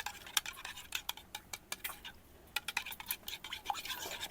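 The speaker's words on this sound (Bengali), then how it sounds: "এবার এতে আমি কিছুটা পরিমাণে নুন দিয়ে দিচ্ছি, পরিমাণ মতো নুন দিয়ে এটাকে আমি ভালো করে ফাটিয়ে নিচ্ছি" Eggs beaten with salt in a bowl, a whisk or fork striking the sides in quick, irregular clicking and scraping bursts, close and fairly faint, with a brief pause midway and no talking.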